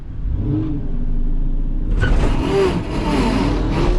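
A nitrous-boosted car engine revs hard and loud close by, a steady rumble that surges sharply about halfway through and holds at a high, rough pitch to the end.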